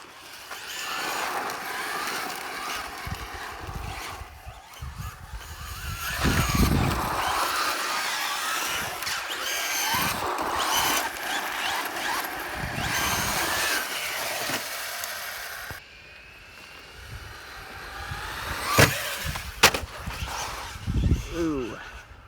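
A Traxxas Slash 4x4 VXL RC car running on a 3S LiPo battery produces bursts of motor whine and tire scrabble during jumps and landings, with a person talking over it.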